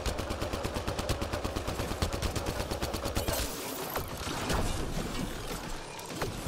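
Rapid automatic gunfire in the video game Mass Effect: Andromeda, a fast regular stream of shots for about three seconds that gives way to louder scattered blasts and impacts.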